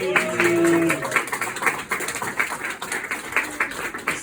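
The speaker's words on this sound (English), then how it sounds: "So a big round of applause." Applause from an audience at a gallery event in London, a steady patter of many hands clapping that carries on throughout after a brief voice at the start.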